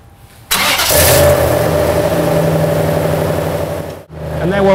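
A truck with a Granatelli slip-fit exhaust cranks and fires up after a short quiet moment, then settles into a loud, steady idle with a low drone that dips briefly near the end.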